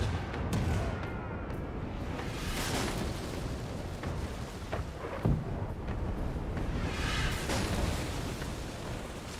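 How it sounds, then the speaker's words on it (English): A ship's starboard cannons fire in Pillars of Eternity II: a series of heavy booms and explosive bursts over a dense, rumbling battle background. "Fire the starboard cannons."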